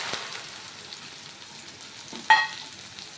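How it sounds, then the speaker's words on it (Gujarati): Chopped okra sizzling in hot oil with mustard seeds, cumin and asafoetida for kadhi, a soft steady frying hiss with one brief sharper burst near the end. "અને આ ભીંડો નાખી દઈશું."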